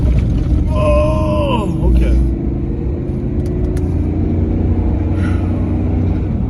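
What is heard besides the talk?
truck being launched and driven off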